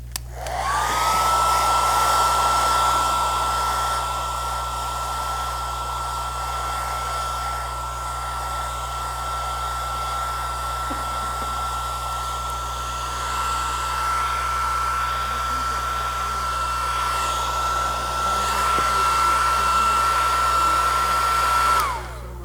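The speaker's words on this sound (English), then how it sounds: "I had the hairdryer on" A hair dryer blows steadily and loudly from start to finish, a constant whooshing roar with a thin high whine running through it.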